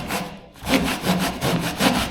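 A saw cuts through a luxury vinyl plank during a floor install over concrete, rapid rasping strokes repeating in a steady back-and-forth rhythm, loud and close with no voices.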